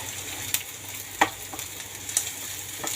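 Onions sautéing in hot oil for Ilocano pakbet, a steady sizzle with a few sharp utensil clicks and scrapes near the pan.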